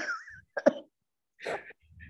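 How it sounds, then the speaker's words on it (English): A chesty cough and throat clearing come in a couple of short, fairly quiet bursts, with soft breathy sounds between them in a quiet room. "I want to get my cough off my chest"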